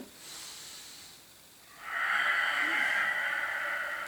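A Pilates student breathes in during an exercise: a soft, airy inhalation, faint at first, then a louder, steady hiss of breath from about two seconds on, close and alone.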